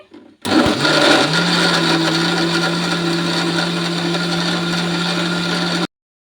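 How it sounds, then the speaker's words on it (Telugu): An electric blender whirs steadily as it blends sapota juice with sugar, a loud continuous motor whine that starts abruptly and runs for several seconds before cutting off. "వేసుకొని ఇంకా బ్లెండ్ చేసుకుందాం. ఇంకా ఇలా బ్లెండ్ చేసుకోవాలి."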